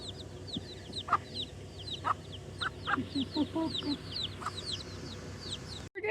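Chickens cluck in short scattered bursts at a Waimea Canyon lookout on Kauai, close by and moderately loud, over a busy backdrop of chirping birds, with a faint voice and a brief bump near the end.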